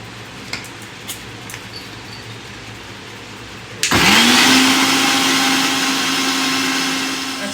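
Electric mixer grinder switching on after a few faint kitchen clicks and pulverising garlic and ginger into paste, a loud steady whine that holds at a constant pitch close by.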